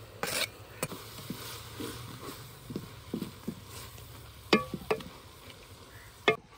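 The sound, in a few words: kasuri methi added to a kadhai and frying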